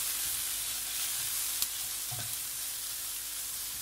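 Masala spices sizzle steadily in a pan for a green moong dal masala curry, with a bright, constant frying hiss, close and fairly loud, and a couple of faint stirring taps.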